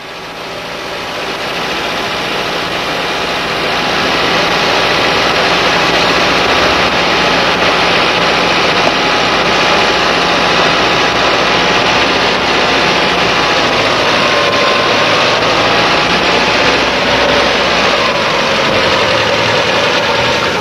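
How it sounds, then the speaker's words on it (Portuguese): Volkswagen engine fitted with a 2E7 carburetor idling during adjustment, a steady loud mechanical hum with a slight shift in pitch near the end, no voices. "regule a rotação do motor na extremidade da haste, com os valores especificados para cada versão"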